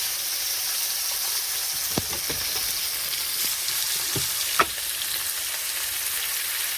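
Ground coriander, cumin, turmeric and chili powder fry with salt in hot oil, a steady close sizzle with a few soft scraping stirs.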